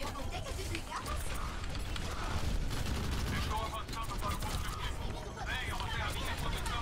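Rapid gunfire in Overwatch crackles continuously in dense bursts, mixed with mechanical clatter and busy game noise.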